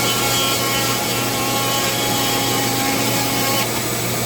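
A Dremel rotary tool carves beard detail into a wooden friendship staff, giving a loud, steady high-pitched whine and grinding buzz that runs unbroken and close throughout.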